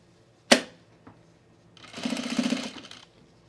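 After a sharp click, a sewing machine runs in one short burst of stitching on a men's utility jacket, fairly close and moderately loud, then stops.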